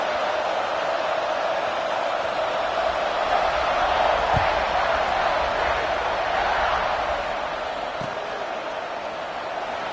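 A football stadium crowd roars steadily during a kickoff, a continuous loud wash of cheering and noise with no clear pauses.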